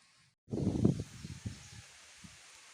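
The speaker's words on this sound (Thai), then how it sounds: "ลมแรงลมเย็นนะท่านผู้ชม ช่วงนี้เนาะ" Strong, cool wind blowing outdoors. A sudden rough gust buffets and rustles loudly, then fades into weaker, uneven flutters, with no voices.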